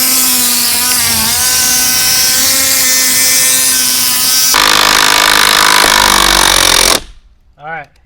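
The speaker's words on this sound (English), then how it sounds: "16-inch by 3/4 inch lag bolt between the Milwaukee mid-torque half-inch square drive impact wrench and the new DeWALT half-inch square drive impact wrench" A Milwaukee mid-torque and a new DeWALT half-inch square drive cordless impact wrench, each on a 6 Ah battery, hammer a 16-inch by 3/4-inch lag bolt into wood: loud, continuous rapid impacting close by, changing pitch partway, then stopping abruptly.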